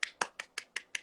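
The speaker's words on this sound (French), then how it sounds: "Que je sais applaudir d'une main?" One-handed clapping, six sharp, evenly spaced slaps in quick succession, close and clear with no talking.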